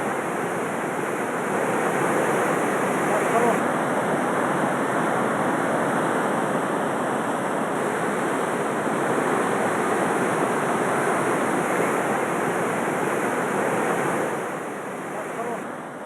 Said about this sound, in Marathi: पोपटखेडच्या भागातील पर्वतरांगांवरून वाहणारा हा ओढा अनेकांचं लक्ष वेधून घेतोय।